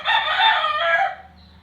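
A gamefowl rooster crows once, loud and close, its drawn-out call lasting just over a second before trailing off, with no voices over it.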